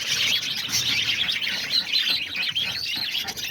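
A flock of budgies in a breeding aviary keeps up a dense, continuous chatter of high chirps and warbles, close and lively throughout.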